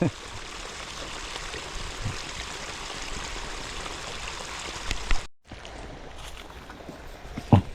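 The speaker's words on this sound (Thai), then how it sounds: "น้ำตกไหลลงมา" A waterfall in Nakhon Phanom pours down in a steady broadband rush, loud and close, broken by one brief dropout near the end.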